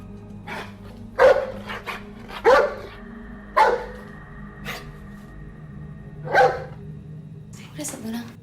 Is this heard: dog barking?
yes